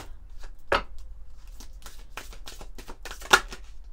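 Oracle cards of a lunology deck are shuffled and drawn, a series of crisp close riffles and flicks with a few sharper slaps, in a quiet room with no talking.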